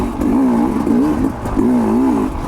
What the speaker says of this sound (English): Here I am just like rocking through this crap in third gear. That's because we're on a Sherco 250, man.